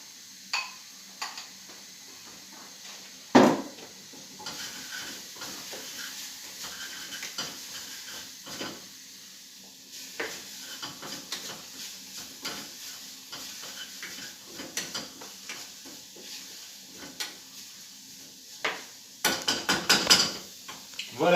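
Cake batter with egg yolks stirred in a bowl, a steady scraping swish with repeated knocks of the utensil against the bowl, close and continuous, growing busier near the end.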